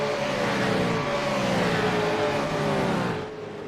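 Onboard a V8 Supercar during a road-course race at Michelin Raceway Road Atlanta, running at the tail of a pack: a loud, steady engine drone with rising and falling pitch through gear changes, continuous and close, easing slightly at the very end.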